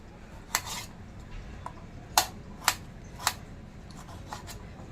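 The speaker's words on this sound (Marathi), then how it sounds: "टॉमॅटो कट करून घेते" Tomatoes being cut with a knife while preparing a traditional Konkan tomato saar, giving a handful of sharp, separate cutting clicks on a board at irregular intervals, close and fairly quiet over a low background hum.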